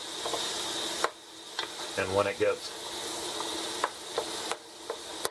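Ground hamburger meat sizzles steadily in a pan while a utensil chops and scrapes it, with sharp knocks at intervals and someone briefly talking partway through.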